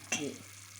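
Minced meat sears alone in a hot pan as the base of a potato and mince içli köfte filling. A quick burst of sizzle starts abruptly, then settles into a faint, fading hiss within a second.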